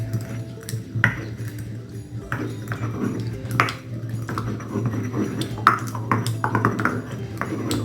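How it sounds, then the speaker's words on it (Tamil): A steady low mechanical hum runs throughout, with irregular scraping, knocking and clinking noises of a stone wet grinder churning rice, no voices. "இப்போ தான் அந்த குடக்கல் சத்தமே வருது"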